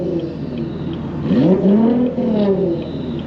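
A Nissan GT-R engine revs on a city street, a rising and falling whine with a sharp swell in the middle, close and loud with no talk over it.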